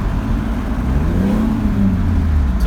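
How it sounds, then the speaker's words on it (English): A Ford engine revs hard with a slipping 4R70W transmission and a worn 1-2 accumulator. The steady, loud whir rises in pitch as the engine climbs without the vehicle gaining speed. "so it just revs up and doesn't do anything."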